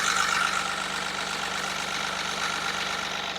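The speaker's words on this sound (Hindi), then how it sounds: "तो ये इंजन, इसकी आवाज सुनो आप भाई" A Mahindra Bolero Neo's 1.5-litre three-cylinder diesel engine idling nearby, a steady low throbbing rumble with a faint knocking pulse, heard alone and without talk.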